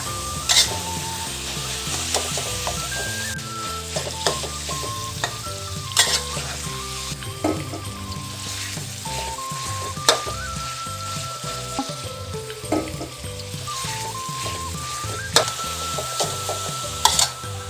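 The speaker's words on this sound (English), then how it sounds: "Now we're just frying up our protein." Meat sizzling steadily in a hot pan for pad Thai, a constant crackling hiss with occasional clinks and scrapes of a utensil stirring, close up with no talking.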